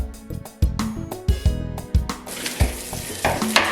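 Onion tipped into garlic frying in oil, with repeated sharp clanks and scrapes of a utensil against the pan over a rising sizzle.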